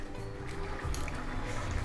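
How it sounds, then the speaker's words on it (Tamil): Tamarind water boils in a pot on the stove, giving off a faint, close bubbling and gurgling that continues without a break for a moment. "புளி தண்ணி வந்து இங்கே கொதிச்சுன்னு இருக்கு."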